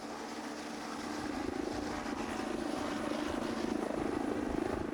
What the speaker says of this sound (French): ce n'est pas en voiture, mais en hélicoptère qu'ils vont patrouiller